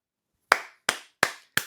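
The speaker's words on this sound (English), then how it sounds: "small round of applause there for Gaza" Four slow, separate hand claps ring out close and crisp, evenly spaced about a third of a second apart, each with a short decaying tail, in a small round of applause with no talking.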